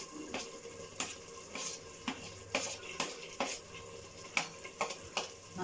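A spoon or spatula stirring onion, tomato and beans in a pan, with repeated scraping strokes against the metal at a steady rhythm over a faint sizzle, near and quiet.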